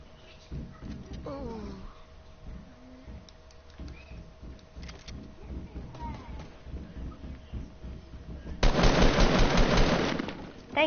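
Fortnite gameplay carries rapid automatic gunfire in a sustained loud burst toward the end, after a stretch of quieter game sounds and someone talking.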